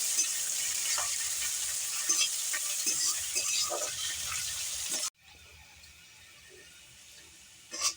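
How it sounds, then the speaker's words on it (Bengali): Onions frying in a pan with a steady broadband sizzle and occasional stirring scrapes for about five seconds, then the sizzle drops abruptly to a much quieter, duller frying hiss. "পেঁয়াজ দিয়ে আমি পেঁয়াজটা একটু লাল লাল করে ভেজে নেব।"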